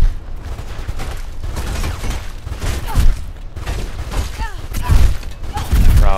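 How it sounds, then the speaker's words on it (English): Enemy gunfire in the rooftop-chase video game Mirror's Edge: steady bursts of shots and booming impacts over a dense action soundtrack, with a voice talking over the din. "Now they're using guns."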